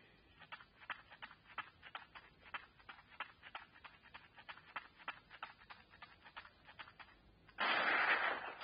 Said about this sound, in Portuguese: olha o tiroteio